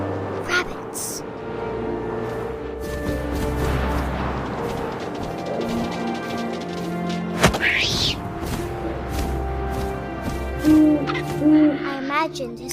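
Owl hooting in the video game What Remains of Edith Finch, with repeated soft hoots over a steady wind-like ambience, a sharp thud near the middle and a few brief chirps toward the end.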